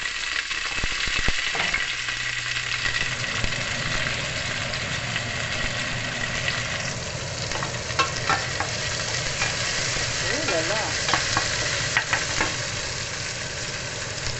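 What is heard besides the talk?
garlic, ginger and onion frying in avocado oil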